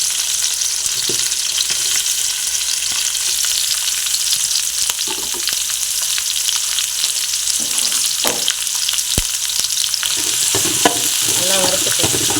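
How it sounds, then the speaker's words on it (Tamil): Onion, green chillies, bay leaf, cinnamon and other whole spices fry in oil in a pan for brinji rice, a steady close sizzle with occasional spatula scrapes and stirs, no talking. "நல்லா வறுத்துக்கலாம்."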